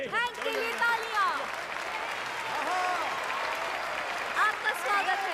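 A studio audience at a show applauds for Hank, a broad wash of clapping under a voice with a musical, tonal layer running over it throughout.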